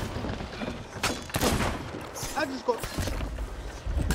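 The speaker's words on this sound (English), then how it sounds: "You're shooting our ship." Ship cannon fire in a space video game, heard as several sharp booming bursts over a couple of seconds amid game noise, with players talking throughout.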